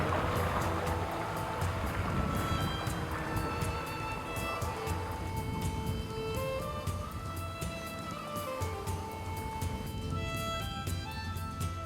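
A Camo360 bait boat runs out across a misty carp lake, its small motor giving a steady whir over lapping water for about twelve seconds, close and continuous, with no voices.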